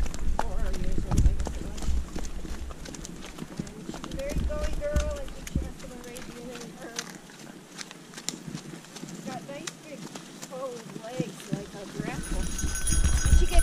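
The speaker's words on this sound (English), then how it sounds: "Shakti is a Mustang mare, 10 years old." Hooves of a ten-year-old Mustang mare with big, bowed draft-like legs clop along a snowy trail in a steady walking rhythm, close by, with people talking over much of it.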